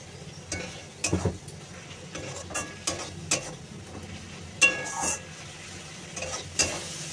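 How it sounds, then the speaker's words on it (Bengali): Spice paste with a little ground cumin and a splash of water is stirred and fried in a pan, with a low sizzle under intermittent scraping strokes of the spoon, close by. "এবার এটাকে সুন্দর করে কষবো, একটুখানি জল দিই, তারপর কষি।"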